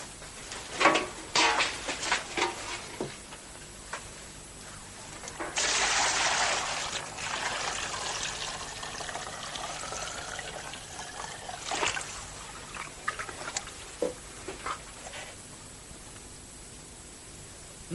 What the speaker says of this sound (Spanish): Creo escuchar una fuga. Dame esa cubeta llena de agua, Billy.